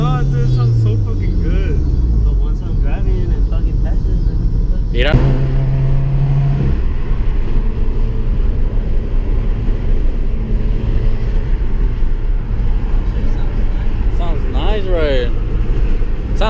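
A 2015-or-later Subaru WRX fitted with a Cobb intake, its engine rumbling and revving with rising and falling pitch sweeps, a loud pass partway through, while people talk excitedly over it.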